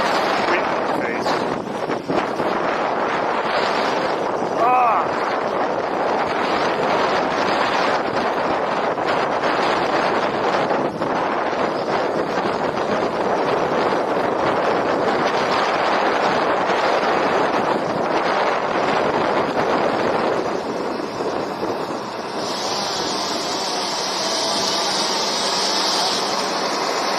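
Strong headwind roars across the microphone while riding a cheap long-range ebike, a loud, constant rushing blast throughout.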